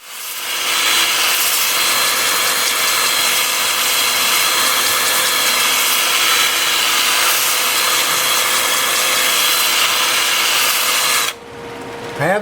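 A wooden bowl is sanded at 120 grit on a lathe spinning in reverse at 300 RPM, giving a steady, close, bright sanding hiss over the motor hum that runs unbroken for about eleven seconds, then drops off.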